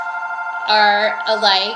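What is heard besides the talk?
telephone ringing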